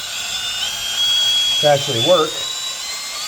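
A drill spinning an oil pump to prime a 1968 Buick Wildcat engine, a steady high mechanical whine that holds throughout, with someone briefly talking over it midway.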